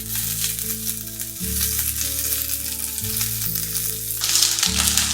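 Greens hiss and sizzle as they fry in hot oil with minced garlic and shallots, a steady close crackle that swells slightly louder toward the end, with no talking.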